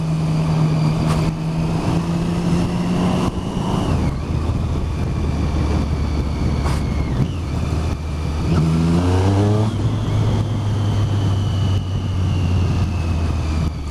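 A triple-cylinder motorcycle engine revs up and drops back, with popping and crackling on the overrun, loud and close over a steady engine drone, with shifting tones as the revs rise and fall.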